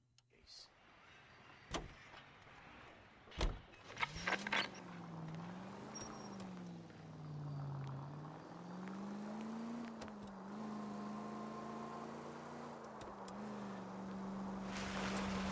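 A car drives along in L.A. Noire. A few sharp clunks come first, then a moderate engine hum rises and falls gently in pitch as the car cruises, with occasional light knocks.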